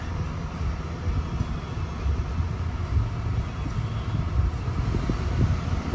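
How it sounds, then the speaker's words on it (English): A steady, droning rush of air from a Toyota Kluger's air conditioning on a 34-degree day blows continuously at close range, with a low rumble underneath and no voices. "Hear that aircon cranking because it is stifling outside."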